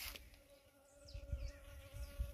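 Honey bees buzzing around hives early in the morning, faint wavering buzzes of individual bees passing close against a quiet outdoor background with a steady tonal hum, no talking.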